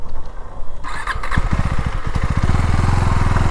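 A KTM Duke 390 Gen3 motorcycle, running low on petrol and fitted with a new NGK Laser Iridium spark plug, catches after a quiet start, sputters briefly, then settles into loud, close, steady running with a rapid even pulse.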